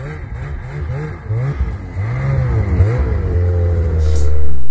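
A 2023 Renegade X-RS 850 snowmobile runs on a snowy trail in Cochrane, Ontario, its engine close and loud, revving up and down in repeated surges before climbing into a sustained high roar.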